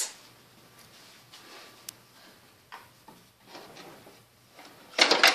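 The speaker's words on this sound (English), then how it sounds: "Put it in the drawer." A kitchen drawer slides shut with a sharp wooden clatter near the end, after a stretch of quiet small knocks and handling noises while a dishwasher is being emptied at home.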